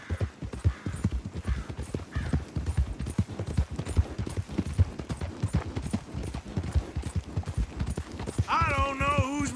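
In Red Dead Redemption 2, horses gallop in a race with rapid, steady clip-clop hoofbeats that stay close and loud throughout, and a horse whinnies near the end.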